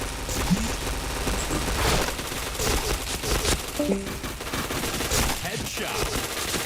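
Rapid bursts of gunfire from a shooting video game, loud overlapping automatic volleys with scattered single shots, with a player's voice talking now and then.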